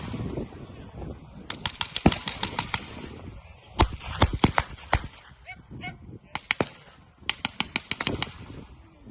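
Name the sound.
gunfire at a historical battle reenactment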